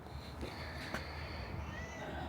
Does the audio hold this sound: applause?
no